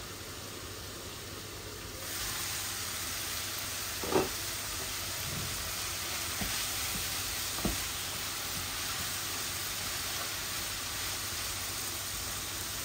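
Onions and spices frying in a pan, a steady soft sizzle starting after a quiet moment and running throughout, with a few faint clinks of stirring.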